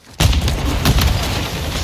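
A frag grenade detonates in Call of Duty Modern Warfare 2 multiplayer, a sudden loud boom followed by rumbling debris and continued battlefield noise, with a second sharp blast shortly after.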